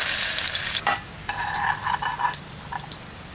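Garlic for a tempering fries in hot mustard oil, a steady loud sizzle that breaks off briefly, followed by softer bubbling crackle and occasional stirring.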